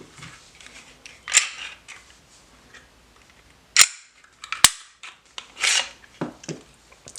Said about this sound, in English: I'll begin to disassemble the firearm just so I could start the installation of the different parts and pieces.